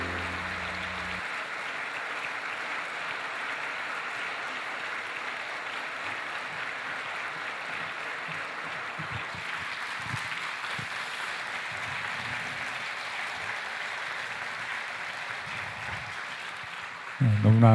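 A church audience claps warmly after a woman's testimony, a dense sustained applause that carries on steadily for many seconds, fairly close and full, with a brief thump near the end.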